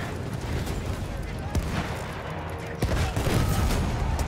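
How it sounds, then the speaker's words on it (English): Gunfire and explosions in Battlefield 1, with dense battlefield shooting and sharp cracks over a rumbling backdrop, growing louder near the end, while a voice talks over it. "I'm just firing at where the rockets are coming from."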